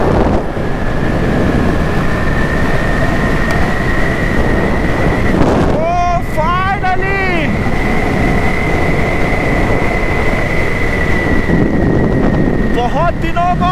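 An Aprilia Storm 125 scooter ridden at high speed on a West Delhi road at night gives a steady roaring rush of engine and heavy wind buffeting, with a few brief passing tones from other traffic.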